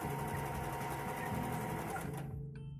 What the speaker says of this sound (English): let's stick that fabric under here and sew a line